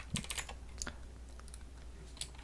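A formula being typed on a computer keyboard, a quiet, close flurry of light key clicks followed by a few sparse taps.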